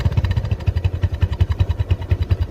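A Bajaj Discover 135 motorcycle engine idles nearby in a steady, even thumping pulse, moderately loud and alone without talk.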